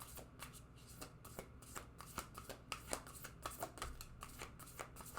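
Oracle cards shuffled by hand in a steady run of soft riffling flicks and slaps, close and fairly quiet, with no talking.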